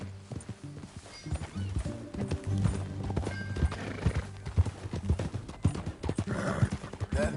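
Horse hooves clip-clop in a video game, a rhythmic string of sharp hoofbeats at close range with a whinny and some background game sound.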